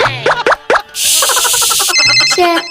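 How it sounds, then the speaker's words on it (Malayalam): A mobile phone ringtone plays loudly and close, a bright electronic melody of quick repeating tones following a few short plucked notes, with no talk over it. "അപ്പോഴത്തേക്ക് ഉപ്പാക്ക് കോളും വന്നു."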